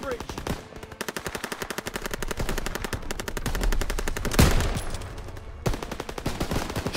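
Machine-gun fire in the Call of Duty WWII campaign: sustained, rapid bursts rattle at close range for several seconds, a heavy blast lands midway, and the firing breaks off briefly before starting again.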